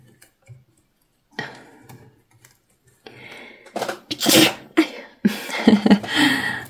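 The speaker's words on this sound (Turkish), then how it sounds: "hapşırık geldi. Tutamadım." A single sharp sneeze bursts out close to the mic partway through, among soft handling noises and a few quiet sounds from a knitting session at home.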